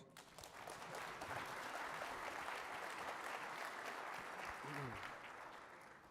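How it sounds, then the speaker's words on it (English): An audience at a water summit panel claps for the panelists, a full sustained round of applause that swells and holds, with a brief voice heard near the end. "Give them a round of applause, folks."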